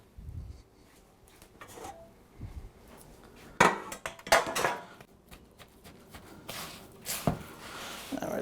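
Buttered metal cake pans for a pumpkin cake clatter and clink as they are gathered and set down, with a few sharp, close knocks among quieter handling noises.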